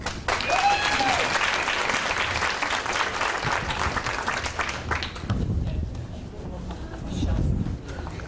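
An audience at a personal well-being keynote gives a round of applause welcoming the speaker. The dense, sustained clapping fades after about five seconds, leaving scattered claps, low murmuring and some talk.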